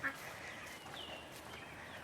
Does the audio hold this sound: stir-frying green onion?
no